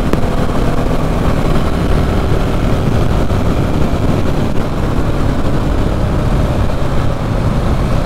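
A 690 cc motorcycle engine revving to about 4000 rpm, a steady loud drone that holds constant throughout with no talk over it.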